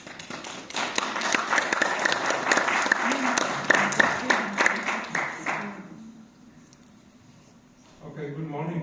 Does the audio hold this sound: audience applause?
yes